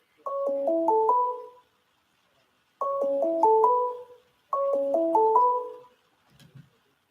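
A phone rings back on an outgoing call, sounding three repeated electronic melodic ringback patterns with short pauses between, clear and fairly loud, ending with a faint low murmur.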